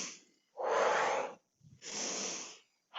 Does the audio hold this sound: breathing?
yes